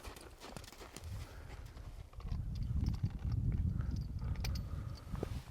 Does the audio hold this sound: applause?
no